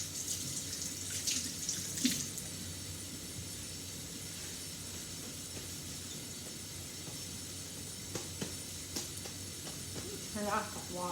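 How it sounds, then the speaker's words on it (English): Water runs steadily from a tap into a sink during pharmacy handwashing, a faint continuous hiss with a few soft knocks and clinks near the end, fairly quiet throughout. "Turn off the water."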